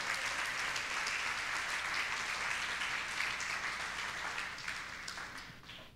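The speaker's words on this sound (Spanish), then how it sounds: "Dale un aplauso al Señor por la palabra." Congregation applauding at an evangelical faith crusade service, dense sustained clapping from many hands, moderately distant and even, tapering slightly toward the end.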